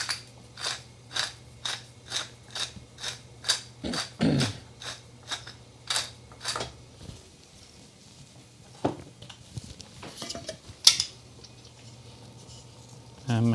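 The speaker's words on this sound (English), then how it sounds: "So I'll get my pepper mill." A pepper mill cranks in a quick run of evenly spaced crunchy grinding bursts, close and fairly loud, then a few scattered clicks and handling knocks follow as the grinding stops.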